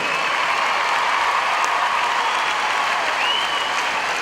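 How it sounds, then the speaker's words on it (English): A large arena crowd applauds the winning horse and rider of the Puissance at the Horse of the Year Show, a dense, steady roar of clapping that holds at full strength throughout with no gaps. "That deserves a massive round of applause"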